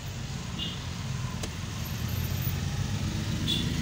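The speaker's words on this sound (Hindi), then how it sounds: "बहुत ही ट्रैफिक होता है सुबह में" Heavy morning road traffic in Tura, Meghalaya, heard as a steady rumble of car and vehicle engines passing nearby, with a continuous low drone and a few faint higher tones.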